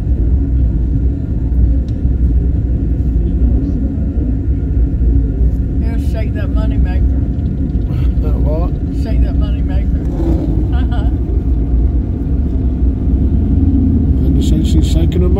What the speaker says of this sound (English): Watching all the motorcycles.